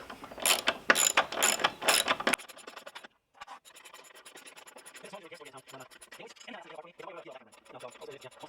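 Metal tools ratchet and scrape while the blade belt tensioner is removed from a Toro Timemaster mower: a few loud rasping bursts at first, then quieter, steady clicking and scraping.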